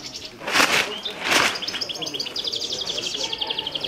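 Pigeons, a flock of racing or diving birds in Petrousa, Drama, burst off in two loud wing-flap rushes, followed by a thin run of high chirping calls that carries on steadily without any talk.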